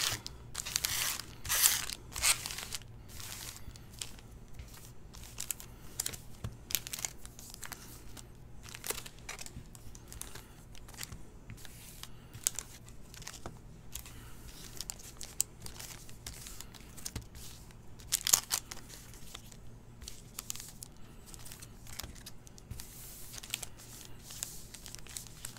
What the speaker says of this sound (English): I'll shuffle them like a deck of cards